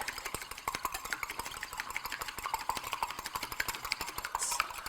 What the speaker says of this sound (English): I'm just using a whisk here.